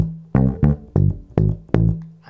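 Electric bass plays the first bar of a funk riff, five or six punchy plucked notes in a syncopated pattern, close and unaccompanied.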